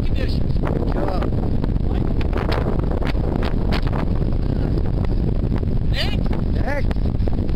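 Strong wind of up to 100 km/h buffets the microphone in loud, continuous gusts while fishing with a bobber, with a voice speaking intermittently beneath the roar.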